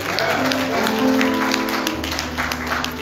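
Brief applause from a Baptist church congregation for the keyboard player at a Men's Day service, a loud burst of clapping layered over held keyboard chords for about three seconds.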